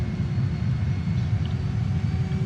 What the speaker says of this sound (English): Reverse thrust and full throttle.